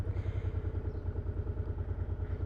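A Suzuki VZ800 Boulevard motorcycle engine runs with a steady, rhythmic low thumping throughout, a close and moderately loud idle with no talk over it.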